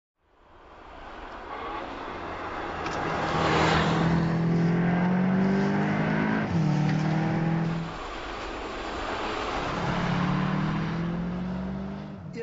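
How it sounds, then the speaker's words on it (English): A Volkswagen Arteon R accelerates hard out of a corner, its engine rising through gears with a loud climbing drone, a brief dip at a shift, then pulling up again. "The corner exit acceleration of that car is just unbelievable."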